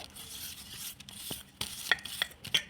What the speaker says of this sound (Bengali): এবার এগুলো আমি সব কিছু মিশিয়ে নেবো ভালো করে হাতের সাহায্যে